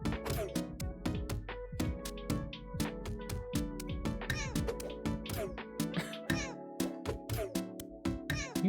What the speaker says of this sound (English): Feed the cats. They're starving.